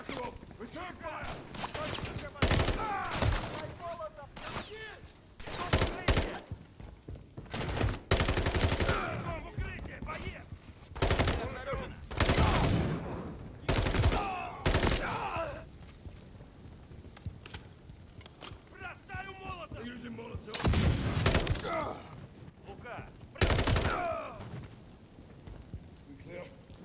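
Bursts of automatic gunfire and explosive blasts from the Call of Duty Modern Warfare III campaign mission Flashpoint ring out in heavy volleys, with voiced dialogue and battle chatter layered between the loud, repeated shots.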